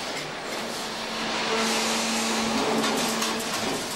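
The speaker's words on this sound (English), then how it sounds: "The wires leave the straightening units and are subsequently clamped tightly in a holder capable of accommodating all the various diameters." A PEDAX Twinmaster 16 II wire straightening machine runs with a continuous broadband mechanical whir and a faint steady hum, even and unbroken throughout.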